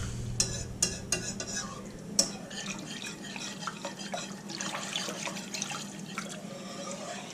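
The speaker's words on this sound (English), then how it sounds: "Now I'm using a whisk. I just want to make sure I get all that flour and everything broke up." A metal whisk works a flour mixture in a pot for chicken pot pie, giving sharp clinks at first and then a steady, quieter scraping and swishing rhythm, close and moderately soft.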